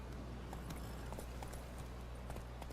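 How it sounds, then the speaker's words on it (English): Hooves of Geralt's horse Roach trotting in The Witcher 3, a faint, steady clip-clop rhythm over low ambient rumble. "Luckily, can always count on his horse Roach, to help him in his travels."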